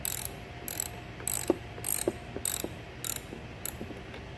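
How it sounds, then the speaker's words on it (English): A 10mm ratchet works loose a car battery's positive terminal nut on a Chevrolet Cruze, giving repeated bursts of rapid metallic clicking in a steady back-and-forth rhythm, close up with no talking. "I'll take my 10mm, loosen up the positive terminal."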